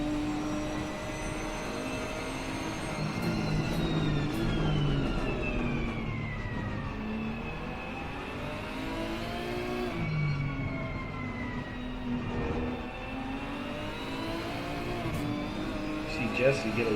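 Race cars lapping Indianapolis in a racing video game, their engine notes rising and falling in long sweeping whines as they pass and shift, heard at a moderate level beneath a commentator's steady play-by-play.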